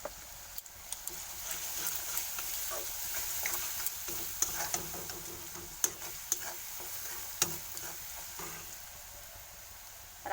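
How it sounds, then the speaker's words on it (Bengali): Garlic and turmeric frying in oil for a rohu fish dish, a continuous soft sizzle broken by regular light clicks and taps of a spatula against the pan, moderately quiet and close. "আমি এর উপর দিয়ে কিছুটা হলুদ ছড়িয়ে দেবো কারণ এর তেলের উপরে হলুদ দিলে হলুদটা গন্ধ ছাড়বে ভালো"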